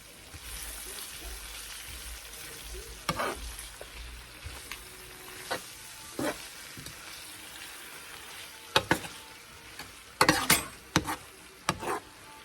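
Loose meat for sandwiches fries quietly in a pan under a soft, steady sizzle, while a spoon stirs it with scattered scraping clinks that grow busier toward the end.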